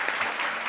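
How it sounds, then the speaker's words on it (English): Brief burst of audience applause for a lecture at a cancer symposium, dense steady clapping throughout without a clear start or end. "let's give him a huge round of applause for this amazing lecture"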